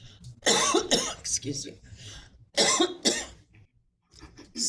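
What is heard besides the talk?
coughing after water went down the wrong way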